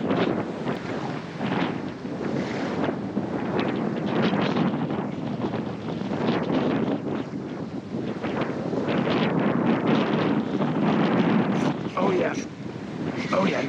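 Strong wind roars steadily across the microphone on a fishing boat out on open water in roughly 30 mph gusts, wind against tide, with waves and surf washing underneath throughout.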